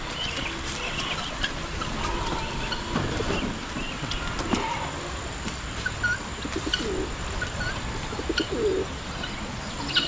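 Pet pigeons coo and chirp steadily over a continuous outdoor hiss, with occasional clearer calls standing out from the dense background.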